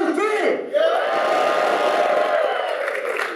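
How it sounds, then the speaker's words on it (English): A large crowd shouts and cheers together in a loud, sustained roar that holds for several seconds. "can I hear a shout out to those of you who are here for the very first time?"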